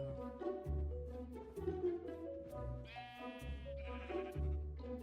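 Sheep in Minecraft bleat several times in a row, fairly clear and moderately loud, with wavering nasal calls over a low steady game soundtrack and no talking.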